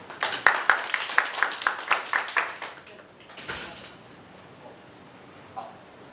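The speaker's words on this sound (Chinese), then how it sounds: "让我们掌声欢迎他" Audience applause welcoming a speaker at the COSCUP 2018 tech conference: a short burst of quick, even clapping from a small group that fades after a few seconds into a quiet room with one faint knock.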